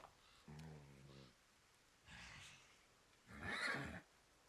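A horse in Pathfinder: Wrath of the Righteous gives a quavering neigh followed by two breathy snorting whinnies, fairly faint and spaced apart with no talking.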